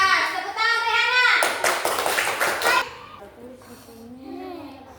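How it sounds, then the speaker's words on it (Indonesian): A classroom of children claps for a pupil named Rehana: a burst of rapid, loud hand claps mixed with children's voices, then fading into someone speaking alone. "Tepuk tangan Rehana."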